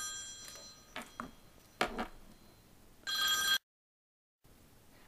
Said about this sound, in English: my phone kept ringing and I apologize